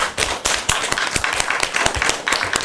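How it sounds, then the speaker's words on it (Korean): A church congregation at a Sunday service claps in praise, a lively mix of sharp individual hand claps and denser patter from many people, close and energetic, unevenly rhythmic, with no voices over it. "하나님께 영광의 박수 돌려드리겠습니다."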